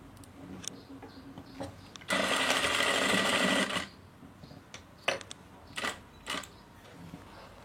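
Sewing machine stitching thread piping along a fabric edge: a steady, fast mechanical whir runs for about two seconds mid-clip, framed by quiet clicks and handling taps.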